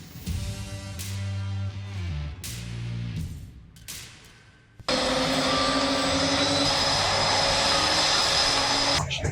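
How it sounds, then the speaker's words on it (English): A Blue Angels jet roars past at a Colorado regional airshow. A rumbling, tonal stretch gives way to a loud, steady broadband jet roar that fills the rest of the clip. "flying Blue Angel number 6, the Pikes Peak Solo from Baltimore, Maryland, Commander Thomas."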